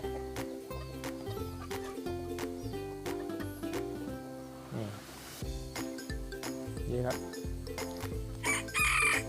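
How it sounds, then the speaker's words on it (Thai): Domestic chickens and a rooster crowing on a mixed farm, with repeated calls rising over a dense, busy backdrop of other bird sounds that continues through the whole stretch. "ไก่เยอะครับ ไก่บ้าน ไก่บ้านก็เยอะ"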